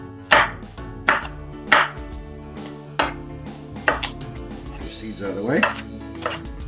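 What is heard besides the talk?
knife chopping bell pepper into chunks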